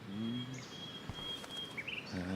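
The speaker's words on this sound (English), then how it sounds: "The birds are flocking around Samuel." Birds chirp around Samuel on the Blackwell campus early in the morning in the game Life Is Strange. Faint, sparse whistled chirps and tweets sound over a low ambient hum.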